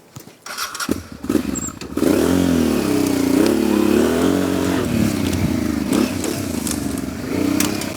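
Honda XL600V Transalp PD06 motorcycle, a custom build, starts with clattery revs, then rides off with a loud, steady engine drone whose pitch wavers through gear changes and throttle swells, close by and without talk.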